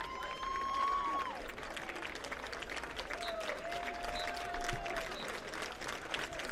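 Crowd applause at a Bridgewater College football game honoring new Athletic Hall of Fame members, a sustained, fairly distant clapping from a stadium crowd with a faint tone over it and no clear talk.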